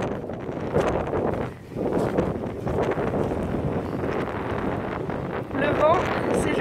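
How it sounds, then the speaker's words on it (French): Strong wind at the top of a snowy hill buffets the microphone in loud, continuous gusts with rough low rumble, and a voice is faintly audible beneath it. "Le vent, c'est juste une dinguerie."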